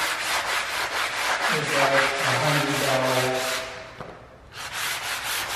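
A rhythmic rasping sweep from a sanding machine working across a wood floor, loud and close, with a steady motor whine underneath, a brief dip in intensity near the end, and a voice speaking briefly.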